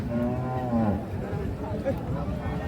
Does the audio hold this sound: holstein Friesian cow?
yes